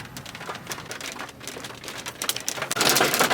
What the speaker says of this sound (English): Oh, it's hailing. It's not raining,